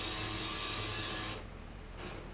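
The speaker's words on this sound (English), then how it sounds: "Oh, my printer's making a noise, and Cleo's like obsessed with the printer." A home printer runs with a steady mechanical whir and hum, then briefly pauses and starts up again, close by and alone.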